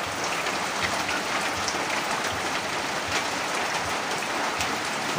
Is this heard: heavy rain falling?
yes